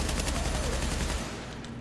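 Gunfire in the video game The Division rattles in a dense, rapid burst of shots, fairly quiet overall, thinning out toward the end.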